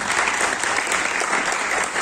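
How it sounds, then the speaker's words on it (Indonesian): Steady, loud applause from an audience at a statistics corner opening ceremony in a university library in Pasuruan, dense clapping sustained without a break. "Tepuk tangan untuk Yudharta."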